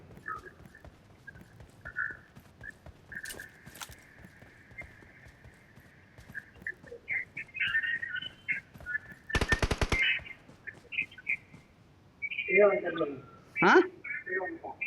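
Gunfire from the mobile battle royale game BGMI on the Erangel map, with sharp bursts of shots scattered through the clip, mostly brief and mid-level, under steady voice chat from players talking throughout.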